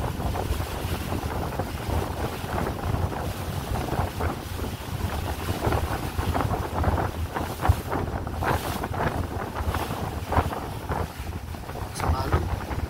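Steady wind rushes across the microphone on the deck of the StarHorse passenger ship in rough, rainy, windy seas, with waves washing beneath, loud and continuous.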